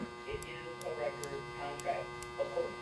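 Faint, regular mechanical clicks from an Ogee clock's ratchet wheel, about five evenly spaced sharp ticks, over a steady low electrical hum.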